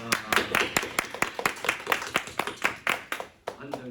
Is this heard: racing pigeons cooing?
no